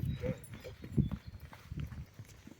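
A young two-year-old horse is led out at a horse sale in Berezove, with low thudding hoof clops on the ground and rustling, fairly close, with no speech.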